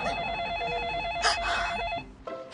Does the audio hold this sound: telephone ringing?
yes